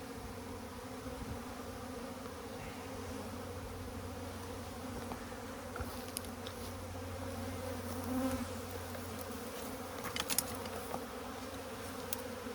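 Honeybees buzzing around an open hive in an Alaska apiary: a steady, dense drone of many bees close by, with a few louder individual buzzes passing near and no talk.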